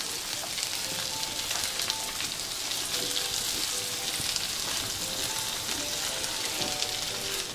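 Capsicum and mixed vegetables frying in a pan for white sauce pasta, giving a dense, continuous crackling sizzle close by, even and unbroken throughout with no talking.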